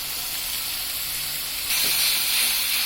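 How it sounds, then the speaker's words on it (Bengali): Prawn curry with spring onion sizzles in the pan while being stirred with spices, a steady close hiss that grows louder partway through, with a soft scrape under it. "এখন এটাকে ভালোভাবে মিশিয়ে কষিয়ে নিচ্ছি আমরা মশলার সাথে।"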